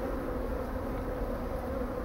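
A swarm of escaped Japanese honeybees returns to its hive box, filling the air with a dense, continuous buzzing hum that holds steady and close without pause.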